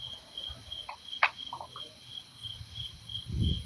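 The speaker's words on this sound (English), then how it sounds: "Yep, those are my crickets." Crickets chirping faintly at a steady pulsing rhythm behind a phone call, with low background noise and a few soft clicks.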